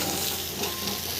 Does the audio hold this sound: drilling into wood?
no